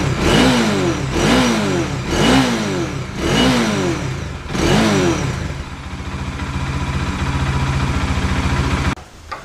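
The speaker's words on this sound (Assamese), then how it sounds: "বাইকখন ষ্টাৰ্ট দিওঁ" A motorbike that has sat unused for a long time, started and revved loudly up close: four sharp rising-and-falling revs, then a steady idle, cutting off near the end.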